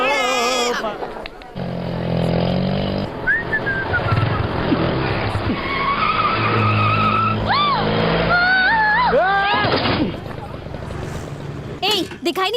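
A car skids to a stop in a Hindi comedy scene with a long loud tire squeal and rushing engine noise, while people talk and shout over it and background chatter continues.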